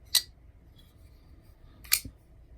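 Two sharp ratcheting clicks from a Wiha ZT 0562TI tool being worked, spaced about two seconds apart, close and crisp over a quiet background.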